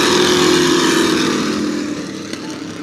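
Race cars in a heat race roar down the front straightaway at New Smyrna Speedway, a loud, steady engine drone that gradually eases as they pass.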